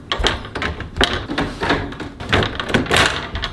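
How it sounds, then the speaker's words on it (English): A door being worked open in a series of clunks, rattles and scraping bursts of handling, close and moderately loud, with no clear talk. "How do you open this door?"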